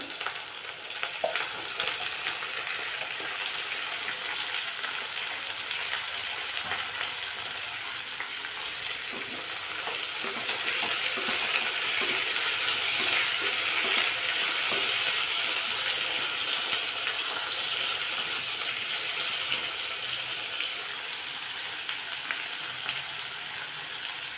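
Long-cut eggplant pieces sizzle in a pan in a North Karnataka-style palya, a steady, close frying hiss with frequent soft scraping and clicking from stirring, swelling a little partway through.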